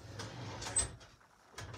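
A filing cabinet drawer holding paper slides open with a short rumbling scrape and a light knock, quiet and close.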